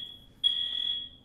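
A Kidde VM fire alarm with voice evacuation system, installed in a building, sounds one steady high electronic tone lasting about half a second, fairly faint over a quiet room hum.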